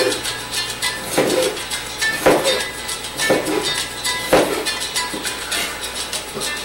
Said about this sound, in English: Now what I'm going to do is, I'm going to go ahead and slice it